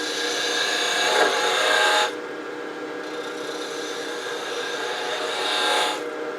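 A wood lathe spins steadily while a tool rounds over the body of a one-piece snowman ornament, producing a close, continuous whir with two brief swells of scraping as the tool bites.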